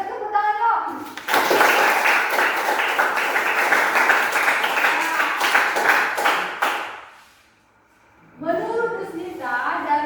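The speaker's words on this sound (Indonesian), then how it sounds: "Yuk tepuk tangan yuk" Students in a classroom clap their hands together, a burst of close, dense clapping lasting several seconds, with a teacher talking before it and again after it dies away.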